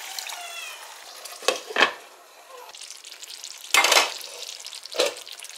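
Chicken pieces cook in a pan with a small amount of added water, giving a soft bubbling sizzle broken by several louder scraping bursts of stirring.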